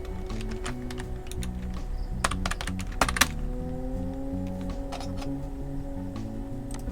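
Steady typing on a computer keyboard while filling in an account-linking support form, with a dense run of light clicks and a few sharper key thunks at moderate distance over a low background hum, with no voices.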